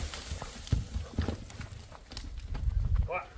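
A horse's hooves clip-clop as it is ridden and pulls a cart, a few close uneven knocks over outdoor noise, with a person talking nearby.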